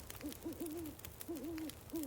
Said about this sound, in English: The owl. The owl was directional.